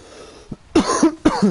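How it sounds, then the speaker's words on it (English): A few harsh coughs close up, one short cough then two stronger bursts in quick succession, with no talking around them. "Sorry for the coughing, guys."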